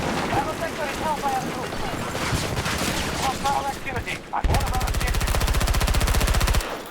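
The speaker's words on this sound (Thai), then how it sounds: "ก็เป็นปืนกลเบาจริง" Light machine gun fire in the video game Battlefield 2042: loud, dense battle noise gives way to a long, steady automatic burst of rapid evenly spaced shots, close and dominant.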